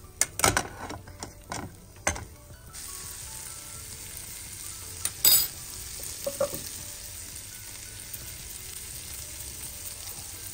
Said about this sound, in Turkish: Bunu soteliyorum böyle. Daha doğrusu tereyağında çeviriyorum.